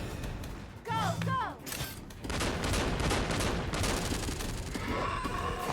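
Rapid bursts of gunfire crackle from an animated RWBY episode, dense and loud under overlapping speech and a brief tonal cry, continuing almost throughout.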